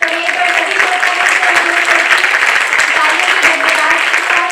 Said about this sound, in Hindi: आपकी उपस्थिति आपकी तालियों की गड़गड़ाहट से ही पता चलेगी